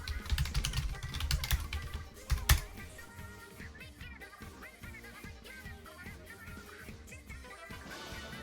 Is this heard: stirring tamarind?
no